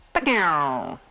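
A single killer whale call, a drawn-out rising and falling squeal with rich harmonics, about a second long and fairly close.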